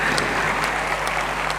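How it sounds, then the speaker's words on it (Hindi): Audience applause fills a hall at a university convocation ceremony in Kurukshetra, a dense, steady wash of many hands clapping, loud and continuous. "जोर से ताली बजाओ।"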